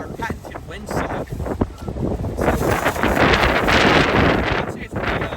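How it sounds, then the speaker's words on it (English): Strong gusty wind buffets the microphone outdoors, a loud rushing roar that swells and dips continuously and is heaviest in the second half. "I'd say it's pretty windy outside"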